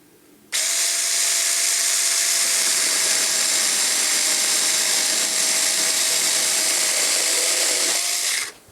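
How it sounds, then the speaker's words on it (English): A small US$50 mini chainsaw cutting wood runs at a steady high-pitched whine for about eight seconds, close and loud, with no talking. "It is a chainsaw after all."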